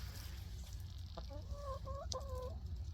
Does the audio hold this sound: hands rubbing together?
no